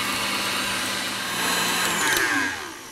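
Stand mixer whipping Italian meringue, a steady close motor whir with a bright hiss that holds level throughout, rising slightly near the end.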